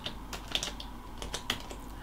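Light tapping on a computer keyboard, a handful of irregular soft keystrokes over about two seconds, close by and fairly quiet with no talking.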